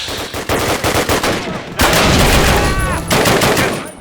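Bren light machine gun firing in a World War II shooter game, rapid bursts of automatic fire crackling loud and close, with heavier continuous gunfire and battle noise from about halfway through.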